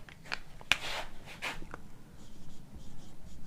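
Short scratchy strokes of writing on a board during a geography lesson, a handful of quick marks in the first two seconds, then quiet room tone.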